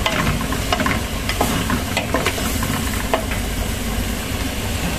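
Pulao rice with meat and cinnamon powder being stirred in a hot pan, steady close sizzling with scraping spoon strokes throughout, no talking.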